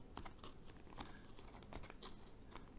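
Blade scoring around a cardboard rocket body tube on the third pass, just about to cut through, giving a close, quiet run of scratchy crinkling and tearing strokes in an irregular rhythm.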